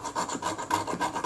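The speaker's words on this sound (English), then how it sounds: "Here I'm just using the back edge of my scalpel to scrape that off." The back edge of a scalpel scrapes corrosion off a soft aluminium part of a Kodak Retinette type 030/9 camera, giving close, rhythmic rasping strokes, about a dozen in quick succession, quiet and alone.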